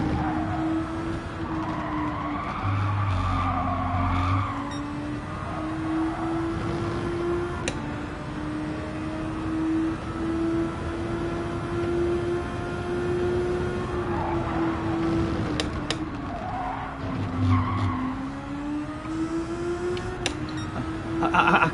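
Race car in Gran Turismo 7 driven hard, a loud sustained engine drone rising and falling with gear changes, with occasional bursts of tire squeal and skidding through corners.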